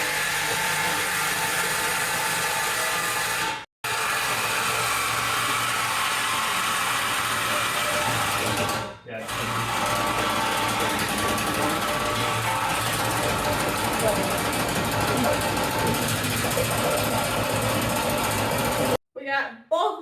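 An exhaust pipe is cut behind the muffler with a loud, continuous, harsh grinding that runs almost without pause, broken only by two brief stops and a stuttering finish.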